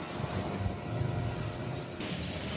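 Small boat rocking through a mangrove at Pondicherry, with a continuous rush of wind and splashing water, close and steady, and no talk.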